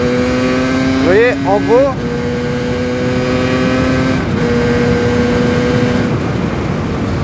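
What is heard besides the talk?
motorcycle shifting gears without clutch while riding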